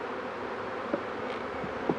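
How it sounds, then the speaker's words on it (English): Honeybees of a swarm being installed in a new beehive with drawn comb and a feeder, heard as a steady low, dense buzzing hum throughout, with a couple of brief louder bursts as individual bees pass close. "That's all bees."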